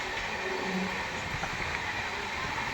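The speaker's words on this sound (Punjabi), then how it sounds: "ਆ ਗਈ ਇਹ ਬੰਦੇ ਭਾਰਤ ਟ੍ਰੇਨ" A Vande Bharat express train pulling into a station, a steady broadband rumble and rolling rail noise at close range, continuous throughout with no voices.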